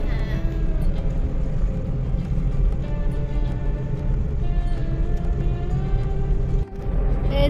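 A car cruising along a highway from Uluberia toward Bankura, its steady engine and road rumble filling the cabin continuously and fairly loudly, with a brief dip near the end.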